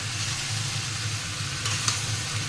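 Potatoes sizzling in a pan with ordinary chili powder for koraishutir aloo dum, a steady close frying hiss with faint stirring scrapes, no talking.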